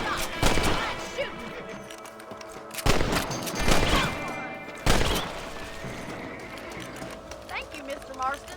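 Rifle gunshots in the video game Red Dead Redemption, with three sharp loud cracks spaced a couple of seconds apart, each trailing into rumble, over game ambience and a voice speaking.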